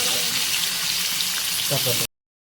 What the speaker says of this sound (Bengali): আলু আলু ফ্রাই করে নিতেছে